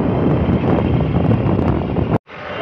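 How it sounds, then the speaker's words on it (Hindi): Strong wind buffets the microphone outdoors in hilly Nainital, a loud continuous rushing roar that cuts off abruptly near the end before returning more softly. "क्या शानदार हवा चल रही है"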